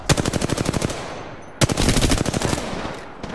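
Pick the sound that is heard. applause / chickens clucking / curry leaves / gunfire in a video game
gunfire in a video game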